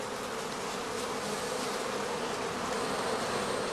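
Honey bees hum in a dense, continuous drone at a heather skep hive on a stand near Dorfmark, steady and close throughout with no voices.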